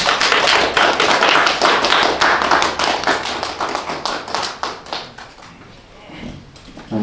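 An audience of parents applauds children presenting at a young astronomers' project showcase, with loud, close, rapid clapping that thins toward the end before a fresh burst.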